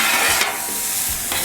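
Beef fried rice sizzles on a Camp Chef FTG600 flat top griddle, a close, steady hiss of frying with faint scraping stirs.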